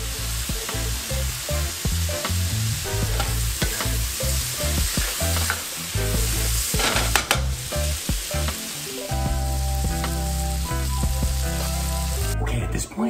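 Butter sizzles and spits in a hot pan, a steady crackling fry broken by repeated utensil scrapes and stirs, close and moderately loud, with a low hum running underneath.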